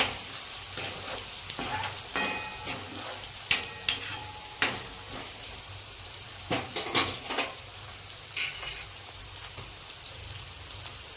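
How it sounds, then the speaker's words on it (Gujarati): Steady crackling sizzle of onions frying in a pan for sev tameta curry, with occasional sharper pops and spatters, close and continuous without any talking. "ડુંગળીને 1 મિનિટ આપણે આ રીતે શેકી લઈશું."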